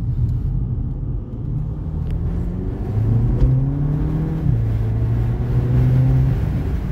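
A car driven in comfort mode hums and accelerates with a steady low engine drone, pitch rising and shifting in smooth steps as it gains speed, close and continuous with no talk.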